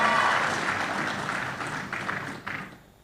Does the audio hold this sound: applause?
yes